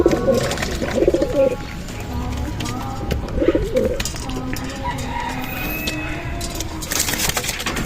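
Pigeons cooing close by in short repeated bursts, with a few chirps and light rustling, and some faint talk in the background during a hot day outdoors.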